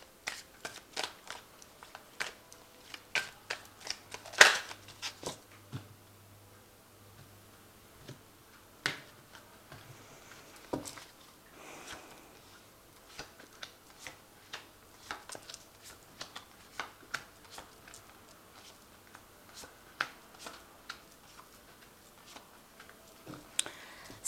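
Tarot cards are drawn from a deck one by one, making scattered soft snaps and flicks spread over a long, quiet stretch.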